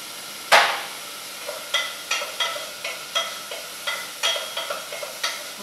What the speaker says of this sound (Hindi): गार्लिक थोड़ा सा सौते हो जाए।